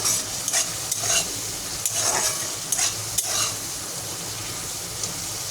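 Food is stirred and fried in mustard oil in a pan, with a continuous sizzle broken by repeated scraping strokes of the spoon at an uneven rhythm. The sounds are close and clear, with no talking.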